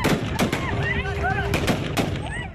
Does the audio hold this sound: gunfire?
yes